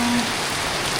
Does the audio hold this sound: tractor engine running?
no